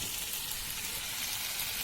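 Spices for a spicy chicken bhuna masala fry in a pan with a steady, faint hiss and crackle, close and uninterrupted, with no voices.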